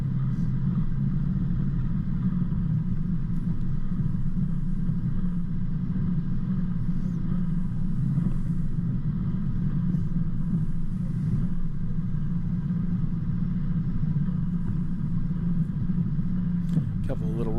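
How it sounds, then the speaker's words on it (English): Four-wheel drive car slowly climbing a steep rocky mountain track in Tallarook State Forest, a steady low engine rumble heard from inside the cabin throughout. "if you take your time, the car will do its job and climb up over most of this"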